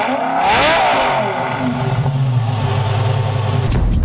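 A 2006 Lamborghini Gallardo E-Gear fitted with a Tubi exhaust revs sharply up and back down, then settles into a throaty idle before a final loud blip, close and alone.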